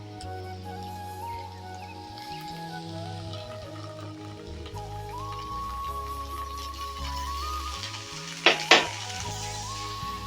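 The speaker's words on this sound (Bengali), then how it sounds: "ধনেপাতা দিয়ে ভালো করে নাড়িয়ে নিচ্ছি।" Coriander being stirred into radish bori curry in a pan, a steady sizzle and frying hiss running throughout with soft scraping, then two sharp utensil clinks near the end.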